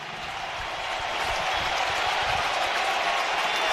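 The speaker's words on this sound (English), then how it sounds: "Listen to this crowd." A packed stadium crowd at a Red Sox–Yankees AL Wild Card playoff game roars in a steady, swelling wall of cheering and applause, loud and continuous with no gaps.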